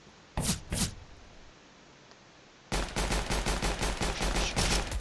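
Gunfire in CS:GO: a quick pair of sharp shots opens, then after a pause a loud, rapid automatic burst runs continuously to the end, close and dominant with no voices.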